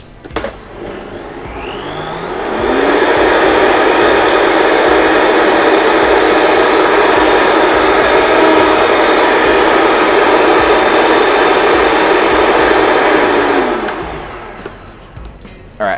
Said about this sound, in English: We're going to throw this in the Vitamix and we're going to blend it up briefly to get it all incorporated as our base mix.